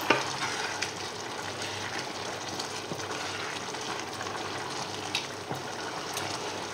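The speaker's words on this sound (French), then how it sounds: "On remue" Salmon risotto stirred in a pan over fairly high heat, a continuous soft sizzle and wet scraping swish, steady and close with no talking.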